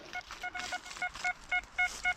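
An XP Deus metal detector, swept over ground while searching for coins and silver, gives a target signal as a run of short, bright electronic beeps in a quick, steady rhythm, about eight pulses over a faint outdoor background.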